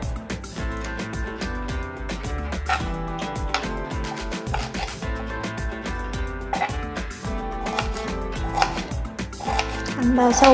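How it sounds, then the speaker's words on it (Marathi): Onion being chopped with a knife on a board, a rapid, steady series of close, sharp thuds continuing throughout with no talk. "सर्वप्रथम आपण कांदा कापून घेऊ"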